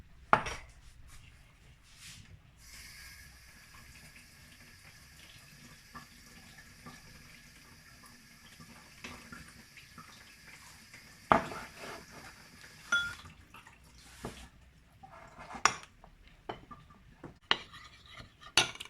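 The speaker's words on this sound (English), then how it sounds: "I'm going to add 2 tablespoons of water and mix it up" Two tablespoons of water go into corn flour in a kitchen and are stirred together. Water runs steadily at first, then a spoon gives scattered clinks and scrapes against the bowl, fairly close and with no talk.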